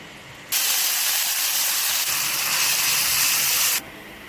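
Washed ridge gourd peels hit hot oil with a loud, steady hissing sizzle that starts abruptly, holds for about three seconds, then cuts off.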